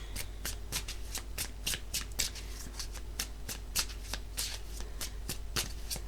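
Oracle cards are shuffled in rapid, crisp riffling bursts, about a dozen quick flicks in steady rhythm, close and clear with no talking.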